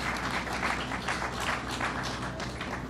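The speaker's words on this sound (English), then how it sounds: "And let's give them a round of applause, Howard Zemsky and Alan Steele." A crowd applauds at a groundbreaking ceremony for the Jacob K. Javits Convention Center expansion, giving steady, moderately loud clapping from many hands that continues for the whole short stretch with no talking.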